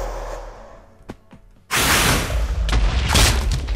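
After a couple of quiet clicks, a sudden loud blast erupts, a Minecraft creeper explosion with a rumbling, noisy tail.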